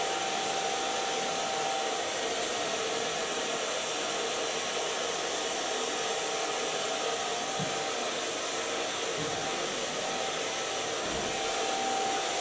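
A hair dryer blowing hair during a wavy bob styling, a loud continuous airy roar with a steady whine that holds unchanged from start to finish.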